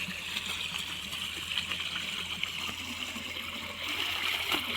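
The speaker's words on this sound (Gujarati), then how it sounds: "પાણી આવ્યું" Irrigation water flows into a farm field with a continuous, close rushing gurgle that grows slightly stronger near the end, with no talk over it.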